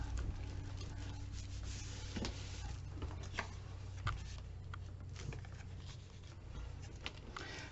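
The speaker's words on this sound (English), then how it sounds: "i want to burnish these down" Paper pieces glued onto a six-sided Halloween box being burnished down, a steady soft rubbing and scraping with occasional light taps, close and fairly quiet throughout.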